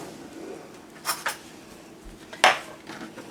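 A plate and spoon are handled while serving Colonial-style Virginia spoon bread: a few sharp clinks of ceramic and metal, one around the middle and a louder one shortly after, over a quiet kitchen background.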